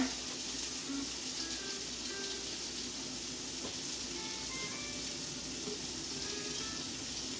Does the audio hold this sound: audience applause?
no